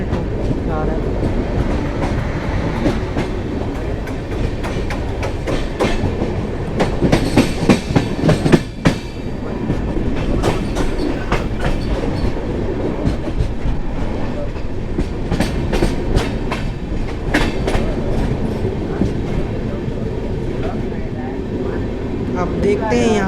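Inside a running Samta Express passenger train, a steady loud rumble carries rhythmic clickety-clack from the wheels on the rails, with a voice talking over it.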